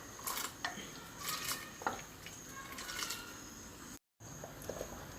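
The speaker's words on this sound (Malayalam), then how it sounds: "അതിലേക്ക് നമുക്ക് ഇനി ഇട്ട് കൊടുക്കാം ചവ്വരി ഇട്ട് കൊടുക്കാം" Sago pearls poured into a hot pot for Onam chavvari payasam, heard as scattered light clinks and rattles of utensils against metal over a soft bubbling background, fairly quiet.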